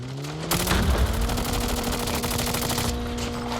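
Call of Duty Mobile gunfire rattles out as a loud, sustained burst of rapid automatic shots lasting several seconds, with a steady electronic tone humming underneath.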